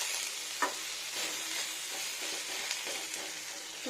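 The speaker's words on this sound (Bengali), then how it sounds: "ফ্রাই হয়ে গেছে টমেটোটা" Tomatoes frying in a pan for a jackfruit curry, a steady close sizzle broken by several sharp scrapes and clacks of a spoon stirring through the pieces, with no talk.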